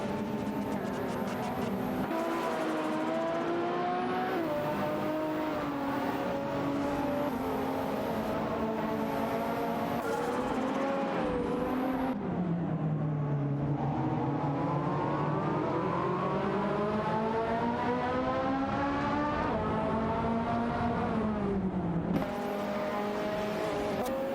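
A Nissan Skyline GTR R34 and a Ferrari F355 Berlinetta F100 racing in a video game, engines droning and revving continuously with rising and falling pitch through gear shifts, loud and close throughout.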